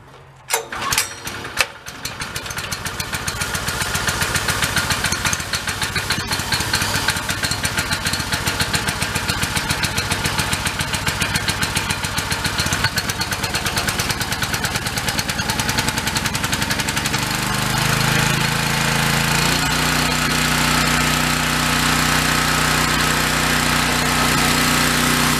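Old Homelite pressure washer that sat unused for 20 years, its small engine pulled to life with a few sputters, then running loud and steady with a rattling drone that shifts lower toward the end.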